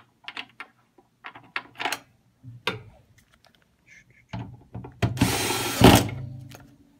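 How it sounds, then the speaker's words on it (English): Screws being driven back into the housing of an SW Series electronic scale after calibration: a few scattered small clicks and scrapes up close, then a louder sustained grinding burst toward the end. "make sure we get the screws back in the right place"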